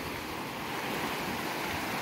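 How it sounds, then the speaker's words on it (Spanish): River water flows in a dense, continuous rush, close and steady throughout with no voices. "les voy a enseñar cómo va el río este produciendo el agua"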